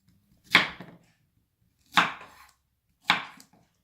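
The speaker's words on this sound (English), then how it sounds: "I'm just going to chop up" A knife chops through half a zucchini in three separate, crisp strokes, each a sharp close knock on the board with a short tail and silence between them.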